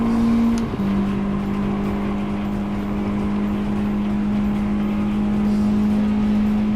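Engine of an old Toyota Corolla racing in Gran Turismo 7 drops pitch briefly as if shifting gear, then holds a steady, loud whining drone at constant revs, alone without speech.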